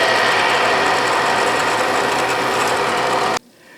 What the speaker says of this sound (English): Okay, let's center drill.